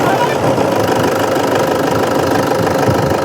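A 2014 Toyota Innova 2.5 diesel engine idling under an open bonnet, a loud, steady, knocking rumble at close range.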